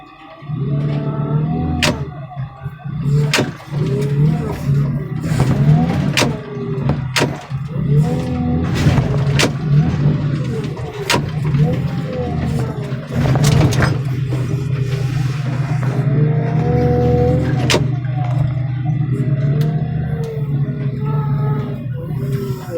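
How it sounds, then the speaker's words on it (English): A car crusher flattens a junk car while a loader pushes against it. Loud engine drone and hydraulic whine rise and fall, broken by repeated heavy metallic thumps and crunches, with no talking. "When I see that crusher lean over, I stop pushing. I come off the throttle."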